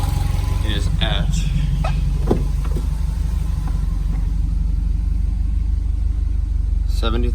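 A 2006 Subaru STI engine idles steadily after break-in, a loud continuous rumble throughout, with someone talking over it at first.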